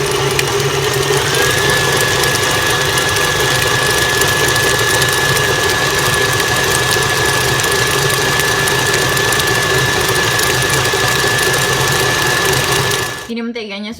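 An electric mixer beats butter at high speed for buttercream, giving a loud, steady whirring drone with a faint mechanical whine that runs unbroken for about thirteen seconds before cutting off.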